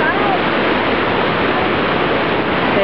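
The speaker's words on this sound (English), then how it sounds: "We are now on the suspension bridge in Coaticook, watching the river down below as it rages along." Roaring, dense rush of a river churning through Coaticook Gorge far below a suspension bridge, a loud continuous wash of whitewater filling the scene with no break.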